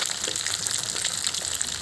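Small fish fry in a crowded 32 cm pan, a steady bright sizzle and crackle of hot oil running continuously at close range, loud and unbroken.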